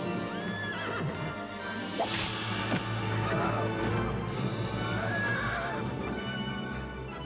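A horse playing the winged Pegasus in a stop-motion fantasy film neighs loudly and whinnies again later, with hooves clip-clopping and rustling effects in a dense soundtrack.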